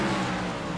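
Race cars in the iRacing sim slowing into Nickelbrook Bend at Oulton Park, a steady, loud engine drone with low harmonic tones holding throughout, no talk over it.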